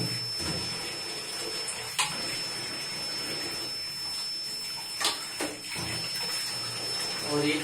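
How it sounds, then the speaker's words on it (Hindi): Tap water runs steadily while fish is washed in a small strainer, a constant close rush with a few sharp clanks and splashes of handling in a village kitchen. "मछली अच्छे से धो लेते हैं। मछली धोने के लिए छोटा स्ट्रेनर"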